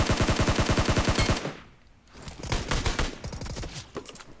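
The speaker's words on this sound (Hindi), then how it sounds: "गोली चल रही है आगे।" Rapid automatic gunfire in a battle royale mobile shooter, a dense burst of shots, then a short lull before more scattered bursts and volleys, loud and close.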